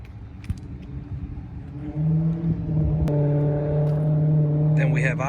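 Someone's car idles and then revs up to a steady, strong engine drone that holds loud and close, while people talk nearby during the first part.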